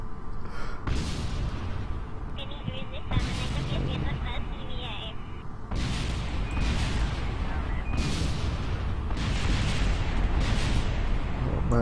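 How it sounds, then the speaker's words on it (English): A spacecraft crashes in the Kerbal Space Program video game, setting off a string of loud, booming explosions in separate bursts over a constant background rumble. "Oh man, I can just hear explosions everywhere."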